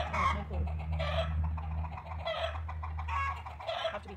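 Chickens squawk and cluck in repeated agitated bursts over a steady low hum, fairly close in a garden setting, with the noise rising and falling across the stretch.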